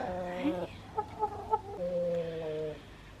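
Hens cluck and warble nearby in a few short bursts, with soft chirpy calls between longer drawn-out clucks.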